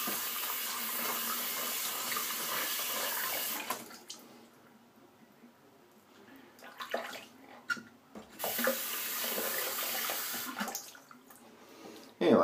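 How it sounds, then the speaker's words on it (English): Running tap water pours steadily as hands are rinsed at a sink, a close, broadband rush that drops away midway, then returns before a final splash. "Let me rinse my hands real quick."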